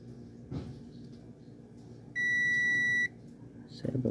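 A multimeter continuity buzzer gives a single steady electronic beep lasting about a second, high-pitched and clear, while testing a Samsung smart TV circuit, with a faint voice and handling noise around it.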